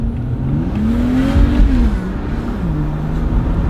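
A tuned BMW X1 E84 with the N55 engine, downpipe and MHD tune, accelerating hard down a street, its engine note rising and shifting through gears, loud and close, with no talk.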